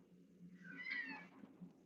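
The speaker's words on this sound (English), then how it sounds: "I think he's meowing at me." A pet cat meows once at a front door, a single drawn-out, fairly quiet call standing alone against a low background hum.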